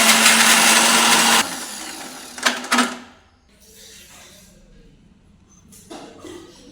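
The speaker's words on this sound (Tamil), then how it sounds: "பூண்டு, இஞ்சி ரெண்டையும் போட்டு நம்ம மிக்சர் வச்சு அரைச்சி எடுத்துடலாம்" A kitchen mixer grinder whirs loudly as it grinds garlic and ginger for a chicken curry, a steady roar for over a second followed by two short, sharp bursts before fading to quiet.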